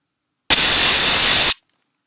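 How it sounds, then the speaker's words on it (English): White noise produced by a Nyquist noise primitive switches on abruptly and holds at a steady, loud, flat hiss for about a second, then cuts off just as suddenly into silence. "We're going to use another primitive called noise, and let's just play the noise by itself."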